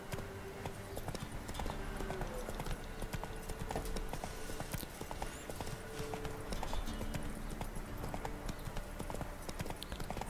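A horse gallops in The Witcher 3, hooves clopping in a fast continuous rhythm at close range for the whole stretch, with game ambience underneath and no clear talk.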